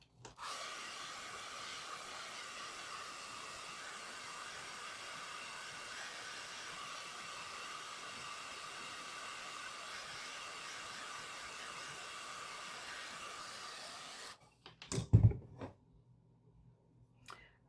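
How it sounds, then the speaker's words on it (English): Steady blow dryer whirring for roughly fourteen seconds while drying a painted hat, a constant airy hum that cuts off abruptly, followed by a few handling knocks and bumps. "let me hit that hat real quick with the blow dryer"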